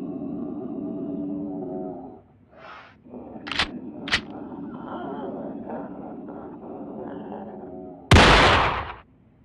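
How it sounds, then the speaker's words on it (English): Two sharp, loud pistol-like shots crack in quick succession over a low rumbling drone, followed later by a big burst of noise. "cocks his pistol before a gunshot fires off"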